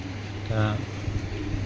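A black checker racing pigeon, a top-line male, gives one short, soft coo over a low background murmur.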